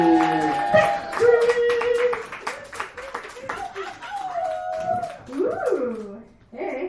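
Audience at a dive bar comedy show claps to welcome a comedian: a run of sharp hand claps mixed with whoops, howling cheers and loud voices talking, fairly close and lively.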